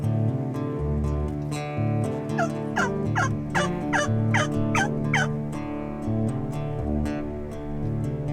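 A wild turkey gobbles repeatedly in a quick rolling series, moderately distant, over a steady low background rumble.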